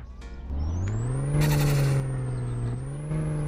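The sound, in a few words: turbo blow-off of turbocharged EDM car, My Summer Car video game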